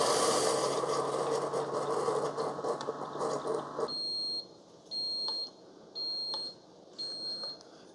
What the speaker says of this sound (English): So you get 4 beeps at the end,